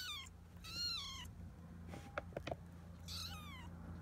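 A small kitten meows repeatedly indoors, three thin rising-falling cries spaced across a few seconds, close but soft, with a few light clicks and a low background hum between calls.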